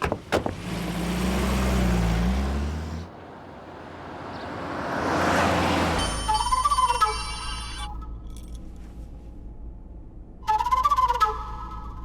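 A telephone ringtone chirps in short electronic bursts at home, first after a stretch of louder rushing noise and again a few seconds later, fairly faint in the room.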